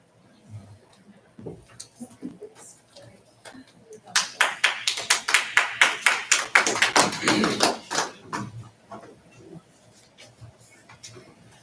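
A brief round of clapping from a small group at a city commission meeting after a presentation, sharp separate claps building for about four seconds and then fading, with faint murmuring before and after.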